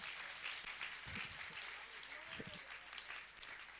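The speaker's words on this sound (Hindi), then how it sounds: "तालियां तालियां तालियां इसके लिए" Audience applause at a Hindi religious discourse, a broad wash of clapping held at an even level throughout, with a few low thumps and a brief tonal sound partway through.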